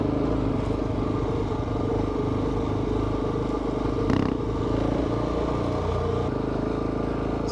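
A motorcycle rides in ride mode 1 on the Colorado Backcountry Discovery Route with the clutch lever feathered, its engine a steady, close, continuous drone with rough mechanical texture and a brief louder bump midway, no voices.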